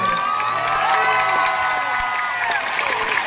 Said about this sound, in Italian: Un applauso ad Angelina.